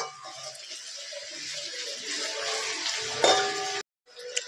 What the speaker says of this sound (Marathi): कांदा चांगला आपल्याला फ्राय करून घ्यायचा आहे